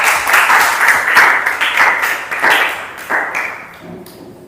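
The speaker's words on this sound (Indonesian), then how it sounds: "Kita berikan aplaus loh." A classroom group claps after a group presentation, a steady burst of applause from many hands that fades out over a few seconds.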